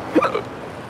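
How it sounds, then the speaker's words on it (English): A single short hiccup from a person, a quick close vocal catch that fades into quiet background. "I get the hiccups."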